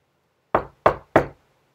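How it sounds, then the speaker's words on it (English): Three firm knocks on a door, evenly spaced and close, ringing out alone against silence. "if I hear a knock on the door, we might have a guest"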